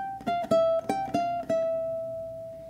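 Ukulele picking an eighth-note walk-down melody on the first string, a run of clear plucked notes descending in steady rhythm and ending on a sustained ringing note, close and alone.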